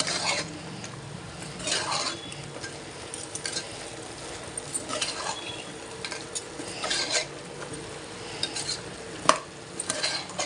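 Mutton sambar with coriander powder stirred in a pan, a steady scraping and clinking of a spoon against metal with soft sizzling, close and continuous with a few louder scrapes.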